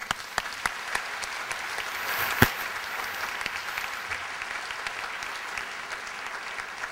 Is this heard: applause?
yes